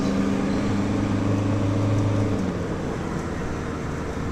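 A car drives along a scenic road toward Cape Cod, its steady engine hum and road noise continuous throughout, with a low engine tone that drops in pitch partway through as if shifting or easing off.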